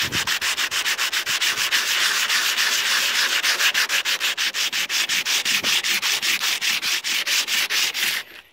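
Steady back-and-forth hand sanding on rusted metal of a van, quick rhythmic rasping strokes repeating evenly throughout, close and fairly loud with no talking.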